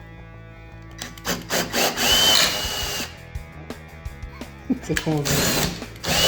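Power drill at work on wood in a workshop, with bursts of motor whine and grinding between pauses, close and fairly loud, mixed with short bits of French talk.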